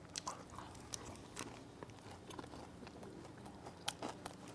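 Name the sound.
biting and chewing crispy fried shrimp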